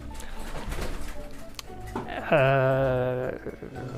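King pigeons in a breeder's aviary cooing, with a soft murmur of cooing and then one loud, drawn-out rolling coo close by, lasting about a second.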